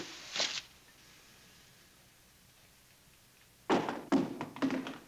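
Guns are thrown down onto the ground, a soft thunk after a quiet stretch and then a cluster of dull thuds and taps close by, with no talking over them.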